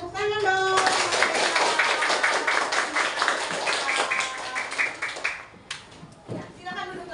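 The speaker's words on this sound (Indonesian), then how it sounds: "kasih tepuk tangan dong" Children in a classroom clapping their hands after singing, a lively burst of rhythmic clapping close by with children's voices and chatter mixed in, tapering off before a teacher speaks.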